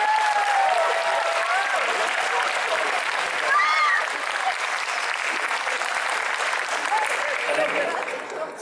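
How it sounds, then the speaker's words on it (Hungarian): A convention audience at a cosplay craftsmanship contest applauds to welcome a contestant, with sustained, dense clapping and a few cheers and whoops. It eases slightly midway and then continues steadily to the end. "hatalmas taps cunamival köszöntsétek Lux Cosplayt!"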